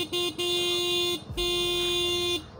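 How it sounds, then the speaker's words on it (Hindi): A Yamaha Fascino 125cc BS6 scooter's horn gives two steady, loud, close blasts of about a second each, with a short gap between them. "हॉर्न चेक करते हैं इसका,"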